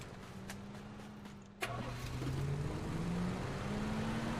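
A car engine in PUBG starts with a sharp catch and then settles into a steady, rising mid-pitched hum that holds close and continuous.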